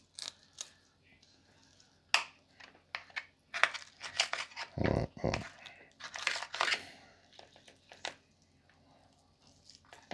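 A locally caught fish is cut up for frying, giving scattered close crunches, snips and crinkling scrapes in irregular bursts, with a deeper thud near the middle and quiet pauses in between.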